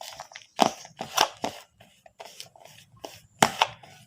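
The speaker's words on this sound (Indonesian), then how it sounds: "kita aduk-aduk kembali Mas Bro" A fishing bait mixture containing crushed shrimp paste is stirred and pressed by hand, giving a series of short crunchy, squelching strokes in an irregular rhythm. The sound is close and moderately quiet, with no talking.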